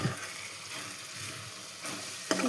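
Brinjal and tomato curry stirred in a pan, a soft continuous sizzle with faint scraping of the spoon, steady and close, with a sharper scrape near the end.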